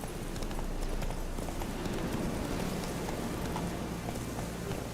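Hooves of the horse Roach galloping in The Witcher video game, a continuous rapid clip-clop over steady outdoor ambience, fairly loud and close with no talk.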